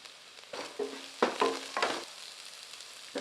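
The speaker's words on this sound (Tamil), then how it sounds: "பொடியாக நிறுத்தின மல்லித்தலை சேர்த்து நல்லா வதக்கி விட்டுக்கலாம்" Carrots with salt and finely chopped coriander leaves are sautéed in a pan over medium heat, giving about four short scraping stir strokes over a soft sizzle, up close.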